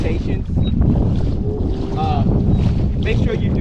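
A kayak on choppy water, with waves slapping the hull and wind buffeting the microphone loudly and steadily throughout, and no talk.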